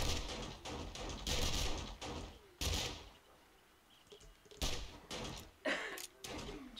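Submachine gun fire in the survival video game 7 Days to Die: several loud, close bursts of rapid shots separated by short pauses, with a quieter stretch in the middle and no speech.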